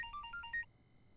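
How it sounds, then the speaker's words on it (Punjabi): A phone ringtone plays faintly, a short melodic run of electronic beeps lasting about half a second before cutting off into quiet. "ਇਹ ਕਿਹਦਾ ਫੋਨ ਆ ਗਿਆ"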